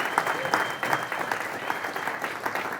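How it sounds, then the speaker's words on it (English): A crowd gives a round of applause for a business team at a talk, steady dense clapping throughout with a faint high tone running beneath it. "So give my whole team a round of applause"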